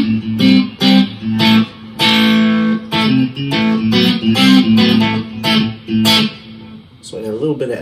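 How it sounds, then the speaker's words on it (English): A Stratocaster-style electric guitar plays loud sustained notes and phrases through a mini Nobels overdrive pedal made in Germany, with echo, each note ringing clearly with no talking. "Next thing I use as a boost is my Nobels, mini Nobels made in Germany, kind of overdrive."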